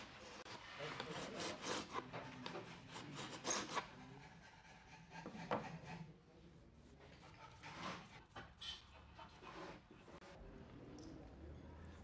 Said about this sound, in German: Hier feilt eine Schülerin die Bünde einer Zither auf die exakt festgelegte Höhe.